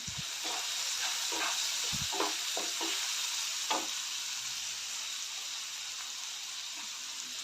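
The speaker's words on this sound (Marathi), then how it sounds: "अर्धा चमचा हळद घालून सर्व मिक्स करून घेते" Onion, tomato and turmeric sizzle and fry in a pan, a steady bright hiss throughout with a few soft scraping stirs near the start, close and fairly loud, no talk.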